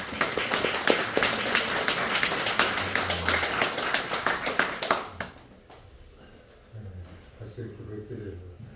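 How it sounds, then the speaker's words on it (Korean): A church congregation applauding with dense, rhythmic clapping for about five seconds during a Sunday service, then it dies away and a voice begins speaking. "박수로 환영합니다"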